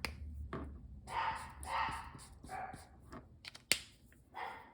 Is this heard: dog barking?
yes